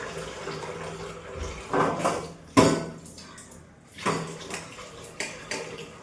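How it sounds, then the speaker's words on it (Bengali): Dishes, pots and pans being washed in a kitchen sink, with running water and bursts of clattering and splashing that come and go at close range. "সব বাসন ধুয়ে রাখছি"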